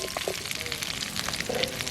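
Something softening in hot oil in a pan, a brisk close sizzle with quick crackles and light scraping stirs throughout, no voices.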